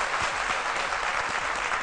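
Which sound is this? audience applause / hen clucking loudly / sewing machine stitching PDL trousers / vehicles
audience applause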